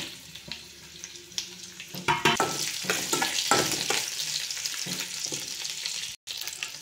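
Tempering spices crackle and sizzle in hot oil in a kadai for a mint chutney, with steady frying hiss, bursts of spattering and occasional scraping stirs, no voices.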